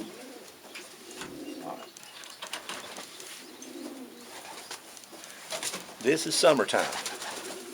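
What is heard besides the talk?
racing pigeons cooing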